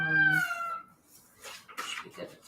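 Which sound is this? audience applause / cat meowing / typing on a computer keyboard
cat meowing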